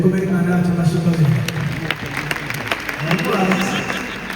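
A concert audience in an arena claps together under a voice, with scattered hand-clap bursts rising through the middle of the stretch while the speech carries on over a steady crowd murmur.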